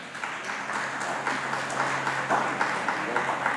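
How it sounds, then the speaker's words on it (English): A crowd at a town hall meeting in a school claps in steady applause, many hands patting together at a moderate level without cheering. "please do, if you wish, offer a round of applause"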